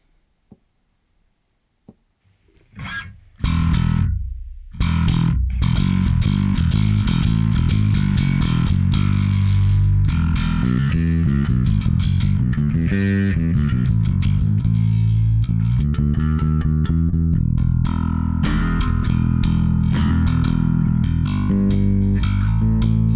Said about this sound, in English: to me that's kind of like a nice, fairly organic overdrive sound